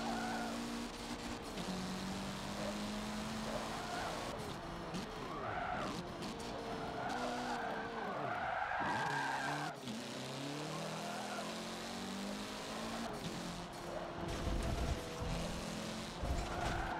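Car tires skid under locked brakes in the Forza racing video game, a drawn-out screech over steady engine noise that runs throughout with no one talking.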